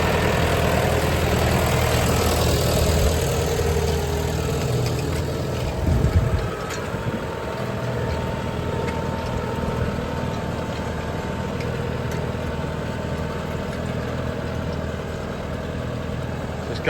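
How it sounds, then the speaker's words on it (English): A John Deere 5115M tractor pulls a Spapperi interrow weeding cultivator with tines and knife rollers between rows of courgettes, its engine a steady low drone heard from inside the cab, with a brief clunk partway through. "This is in the John Deere 5115M. We're just passing into row cultivation between the courgettes."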